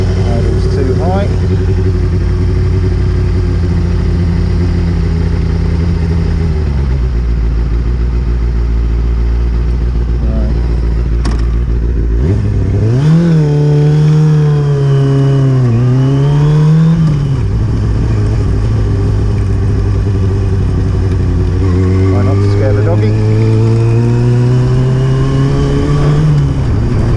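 A Kawasaki ZX6-R sport motorcycle engine runs loud and close with a high idle, then rises and falls through several revs before settling back to idle. A voice talks faintly under the engine.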